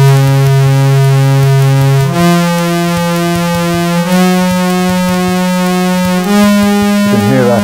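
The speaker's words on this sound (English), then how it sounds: "it's the sine wave, so it's a nice smooth transition of the pulse width modulation" A steady sine-wave synthesizer tone in VCV Rack shifts pitch in a few steps while a pulsing, wavering pulse width modulation ripples through it, ending in a warbling swirl.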